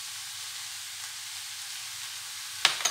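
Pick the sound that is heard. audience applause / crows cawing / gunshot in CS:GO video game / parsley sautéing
parsley sautéing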